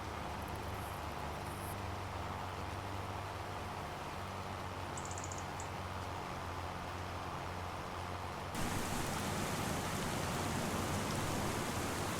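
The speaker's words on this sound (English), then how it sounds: "it's been raining for a while now" Steady rain in the video game Farming Simulator 25 hisses evenly throughout with no talking, and partway through the sound turns brighter and a bit louder.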